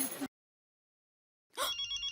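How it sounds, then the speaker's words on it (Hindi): A short electronic phone ring, a brief burst followed by silence and then another ringing tone starting up. "फोन आया।"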